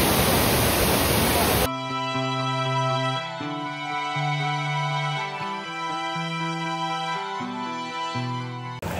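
The Kasipatnam waterfall near Visakhapatnam roars loudly and steadily on its own for under two seconds. Music then takes over, with the rushing water still faintly underneath.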